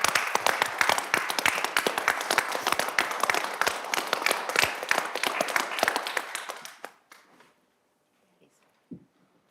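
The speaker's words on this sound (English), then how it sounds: "a round of applause" A crowd at a city council meeting applauds with dense, steady clapping that fades out over a couple of seconds, leaving near silence with a single faint knock.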